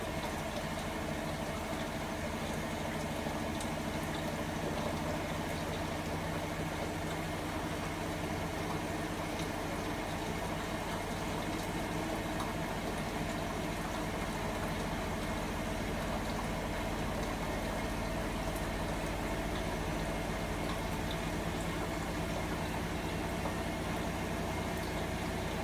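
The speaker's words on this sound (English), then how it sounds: "The noise you can hear is the other washing machine." Another washing machine runs nearby while a vintage Hotpoint Supermatic De Luxe 9414 twin tub fills with rinse water, giving a steady, even mechanical hum and wash that holds level throughout with no talking.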